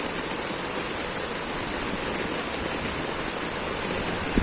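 Heavy rain pours steadily during a rescue of a car in rough, wave-tossed floodwater, producing a dense, unbroken hiss that stays loud and even throughout.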